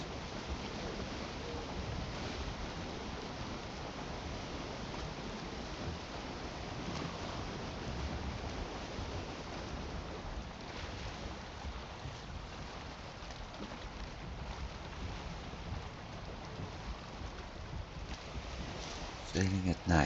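A sailing ship moving at night in Valheim, a steady rush of wind and water against the hull that stays even and fairly quiet throughout.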